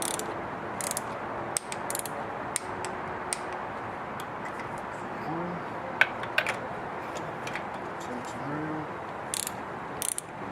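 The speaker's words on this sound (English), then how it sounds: "Here's our torque wrench. We're going to lock down to 13 pounds." A ratcheting torque wrench being tightened to 13 pounds makes crisp, close mechanical clicks in short irregular runs, with a few louder snaps among a quiet background.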